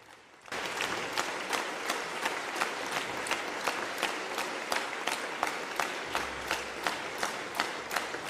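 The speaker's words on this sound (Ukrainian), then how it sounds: "Виступ Володимира Зеленського неодноразово обривали гучні оплески." Loud applause breaks out in a large hall during a speech by Volodymyr Zelensky, starting abruptly and holding as a dense sustained roar of clapping, with a few sharper individual claps standing out at a regular pace.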